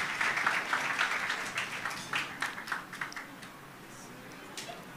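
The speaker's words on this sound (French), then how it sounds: "On applaudit Olifrana, s'il vous plaît." An audience at a youth talent competition finale applauds, starting with dense clapping that thins into scattered individual claps and fades toward the end.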